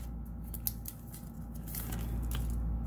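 A foil Magic: The Gathering booster pack being cut and torn open, giving a few soft snips and crinkles up close, fairly quiet with no talking.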